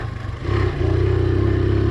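1983 Honda XL100 motorcycle engine pulling up a hill, a close, steady single-cylinder drone that rises in pitch after a brief dip, with no talking.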